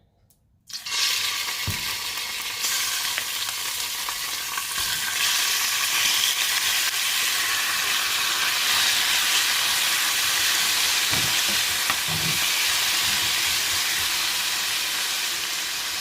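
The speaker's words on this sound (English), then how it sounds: "we're going to be stir frying our chicken breast" Chicken breast stir-frying in a pan for fried rice, a loud, continuous sizzle that starts abruptly and holds steady, with occasional scrapes and clinks.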